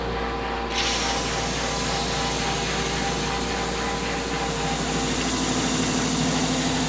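Belt sander running on wood inside a bus conversion, a steady loud droning whir with a constant abrasive hiss that holds without pause, close up and without voices.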